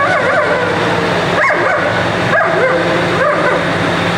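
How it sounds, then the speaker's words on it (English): A dog yips and whimpers in repeated short, high cries over a constant loud rumble, as if riding inside a moving vehicle. "It's just something instinctual that she has to yip."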